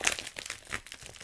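Scissors snip and tear through packing tape on a cardboard shipping box being unboxed, giving close, crinkly rustles and a few sharp rips over about a second.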